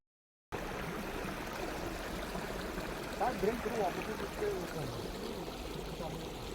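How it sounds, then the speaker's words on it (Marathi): Steady rushing of stream water runs throughout, with a few faint voices briefly audible partway through. "असा ना सगळीकडे पाण्याचा प्रवाह सगळीकडे आहेच आहे"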